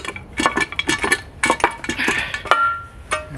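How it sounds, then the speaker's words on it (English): Metal parts clink and clatter as the upper oil pan comes off a four-cylinder Toyota engine: a quick, irregular run of close-up knocks and rattles with short gaps between them. "Now I can remove this upper oil pan."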